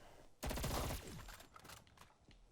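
The FFAR rifle fires in Call of Duty Zombies on the Die Maschine map, heard as one short, close burst of rapid automatic shots that trails into faint echoes at low overall volume.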